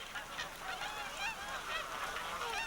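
Wild geese and other wildfowl at Slimbridge honk in a dense, continuous chorus. The many overlapping calls sound moderately distant and steady throughout.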